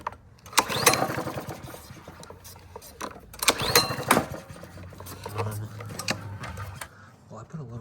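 A Honda GCV 190 small engine is pulled repeatedly with the recoil starter and fails to fire, giving bursts of cranking with brief coughs between pauses, close by, as someone speaks.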